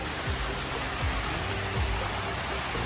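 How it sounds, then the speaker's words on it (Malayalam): Heavy rain falls steadily at a nature eco park in Wayanad, a dense, continuous hiss of downpour close by with no voices. "നല്ല മഴ പെയ്യുന്നുണ്ട് ഇപ്പോ."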